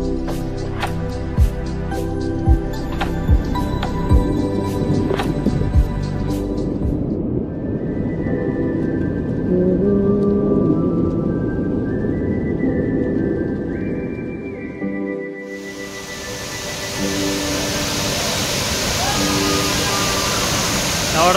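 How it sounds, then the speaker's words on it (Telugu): Gandahati Falls near Srikakulam roars as a steady wash of rushing water, first under tonal music, then alone and louder as a broad, unbroken hiss. "మీకు ముందు వాటర్ ఫాల్స్ చూపిస్తాను"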